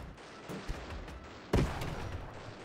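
Cannon fire from airships in the strategy game Airships: Conquer the Skies, with a soft thump partway in and then a louder, heavier boom that rolls off into a rumbling tail.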